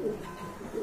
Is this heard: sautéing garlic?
no